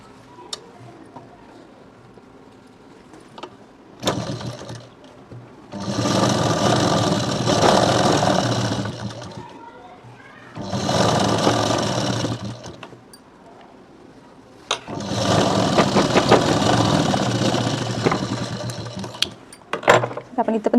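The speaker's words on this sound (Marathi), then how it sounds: "इथं पण आपण एक सिलाई मारून घ्यायची" Sewing machine stitching a seam along pillow-cover fabric cut from an old bedsheet, running in three long, steady bursts of a few seconds each with quiet pauses between, while a person talks briefly in the gaps.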